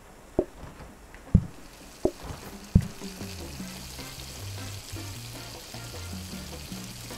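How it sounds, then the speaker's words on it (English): Steaks sizzle on a grill in the cooking game PlateUp!, a low frying hiss punctuated by a few sharp clacks and clicks, with soft game music tones underneath. "Let's pre-cook our steaks."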